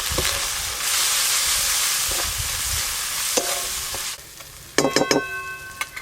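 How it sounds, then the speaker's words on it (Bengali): Ground spices (turmeric, chili, coriander, cumin) and slit green chilies frying in hot oil in a kadai, with a steady loud sizzle and occasional scraping stirs, the hiss dropping briefly before sharp spatula clinks return near the end. "এবার বাদ বাকি সব মশলাগুলো এক এক করে কড়াতে দিয়ে দেবো"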